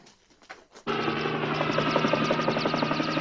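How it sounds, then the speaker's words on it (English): A helicopter passes overhead in an old Highway Patrol television episode: after a short quiet lead-in its rotor starts suddenly and loudly, a steady, dense, pulsing chop that holds to the end. "Helicopter by."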